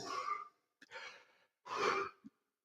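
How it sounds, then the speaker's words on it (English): A long, breathy yawn from a woman, coming in several drawn-out exhalations with short pauses between them, close to the microphone and with no other sound around it. "And why am I yawning?"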